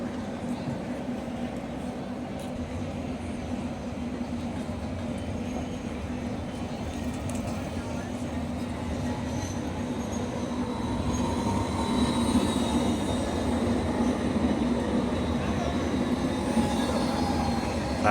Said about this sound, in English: Love these long trams